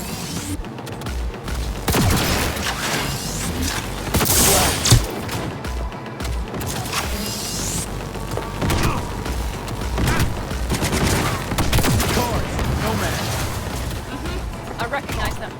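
Gunfire in Cyberpunk 2077, a dense fusillade of shots and booming impacts running throughout, loud and close, mixed with game action noise and voices speaking at times.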